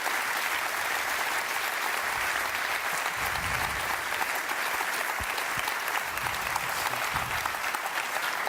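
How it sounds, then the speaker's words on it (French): Loud, continuous applause from a large audience, dense and even throughout with no pauses. "Une bonne main d'applaudissements, s'il vous plaît"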